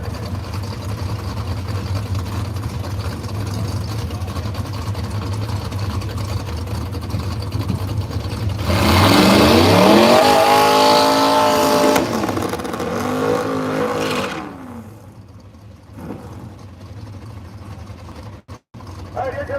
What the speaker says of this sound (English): Sometimes Reggie Moore's car makes a nice, clean, straight arrow pass